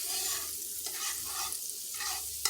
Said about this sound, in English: We're going to put a little butter in our skillet, just to get it ready.